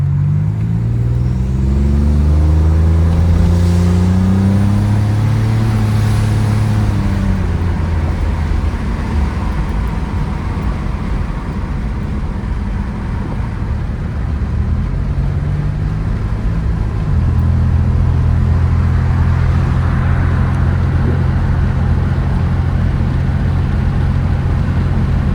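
A restored 1985 Buick Grand National with boost and meth injection drives and accelerates, its engine climbing through rising gear pulls, then easing to a steadier road drone before pulling again, loud and close with no talk.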